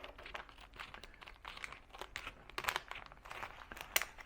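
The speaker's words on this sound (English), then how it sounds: "I'm going to need to get my scissors to cut into it." Scissors snip and crunch through plastic packaging for a Mavic 3 drone wet-suit cover, giving close, irregular crinkling and cutting bursts with a few sharper clicks toward the end.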